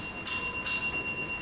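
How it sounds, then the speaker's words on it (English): A timekeeper's bell rings during a school debate competition, two sharp, bright dings about half a second apart, each with a lingering ring, clear and prominent with no talking. "the timekeeper will ring 3 bells"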